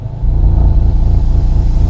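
An Audi TT with S-tronic gearbox revs hard with traction control and ESC switched off, a loud, close, deep engine roar that starts abruptly and holds a rumbling, pulsing tone with no talking.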